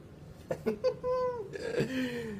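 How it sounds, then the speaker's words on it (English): A pet cat meows several times in quick succession, then draws out longer, rising and falling mews at close range, fairly loud and alone with no talking. "My little kitty just woke up to say hello to you, Aries."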